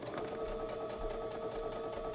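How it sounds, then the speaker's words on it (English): A sewing machine stitches a quarter-inch seam through quilting fabric for a log cabin block, a steady, close, unbroken mechanical whir with a fine rapid needle patter and no talking. "I'm going to put it in my sewing machine and just use a 1/4 inch seam allowance"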